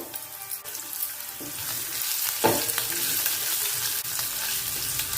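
Finely chopped green chillies frying in a pan for a crispy tea-time snack, a steady close sizzle with a brief louder crackle midway as they hit the hot oil.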